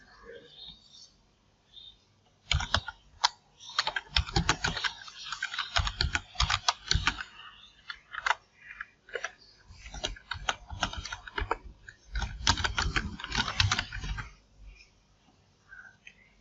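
Someone is typing on a computer keyboard, with quick close key clicks in irregular bursts separated by short pauses, fairly quiet overall.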